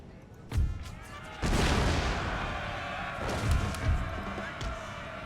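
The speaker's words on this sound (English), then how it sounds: "most of the shots actually almost detonated on my own troops" Artillery from the Pike and Shot video game firing and exploding, with a sharp crack followed by a heavy, rumbling boom that rolls on and fades, loud and close.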